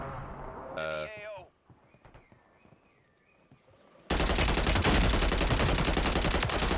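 Rapid shotgun fire in the video game Call of Duty Warzone hits as a sudden, loud, dense burst after a quieter stretch of game sounds and a voice.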